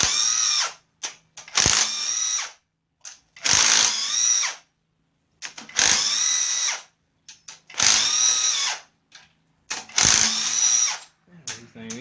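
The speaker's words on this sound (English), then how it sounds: "Loosen these bolts up" A power drill or impact tool loosens bolts on a car engine in repeated loud, whining bursts of about a second each, with short pauses between them.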